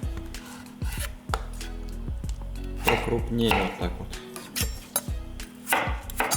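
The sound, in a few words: knife chopping potatoes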